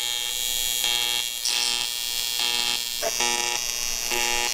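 Welding an exhaust stack tube, a steady buzzing electric hum pulsing in regular on-off bursts, close and continuous.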